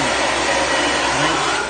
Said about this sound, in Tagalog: Malakas talaga ang init nitong blower na to.